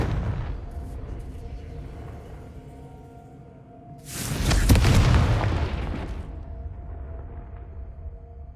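A heavy, booming Confringo blasting spell explosion erupts midway in the Hogwarts Legacy video game, a loud rumbling burst that swells and fades back into a low ambient game background.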